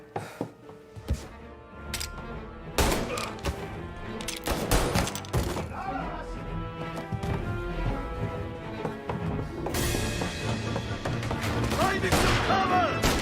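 Loud gunfire in Mafia Definitive Edition: scattered close shots, then sustained bursts and heavy impacts through a tense firefight, with shouting voices mixed in.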